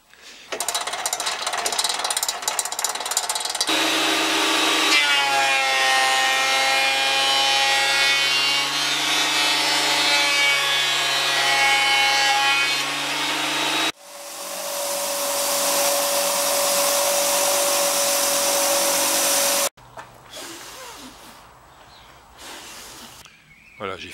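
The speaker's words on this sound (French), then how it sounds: "Je vais le finir à la ponceuse." Power sander working a piece of ash wood about 3 cm thick, a loud continuous whine that shifts pitch several times as the tool is pressed and lifted, cutting off briefly near the end.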